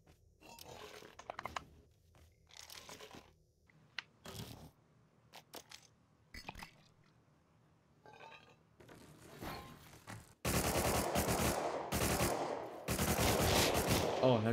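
Gunfire crackles in the survival game Rust, with sparse individual shots early and then a loud, continuous burst of rapid fire filling the last few seconds. A few voices are heard between shots.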